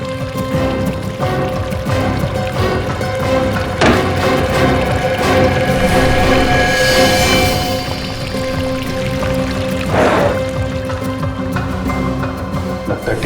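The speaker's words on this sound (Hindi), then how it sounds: "पानी की आवाज।" Water pours and runs steadily in a hotel room, a continuous rushing wash heard under tense dramatic background music.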